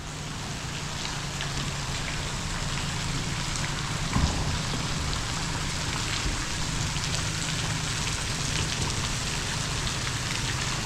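Water pours down a big waterfall under a bridge, a dense, continuous hiss resembling heavy rain, loud and close, with one brief knock partway through.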